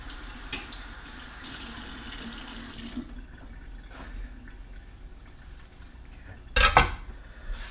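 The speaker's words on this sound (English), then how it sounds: "now rinse off my knife" Kitchen tap water runs steadily while a knife is rinsed, followed by a sharp metallic clink of the blade near the end, close and moderately quiet.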